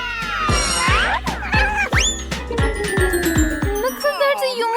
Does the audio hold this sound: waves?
no